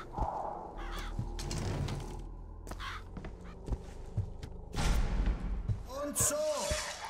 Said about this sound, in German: Die Raben sind hier unsterblich.